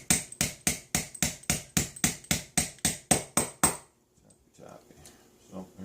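A hammer taps a trigger pin out of a Remington 597 rifle, twelve sharp, evenly spaced metallic strikes up close, then quiet handling noise.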